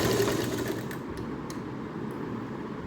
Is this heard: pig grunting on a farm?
no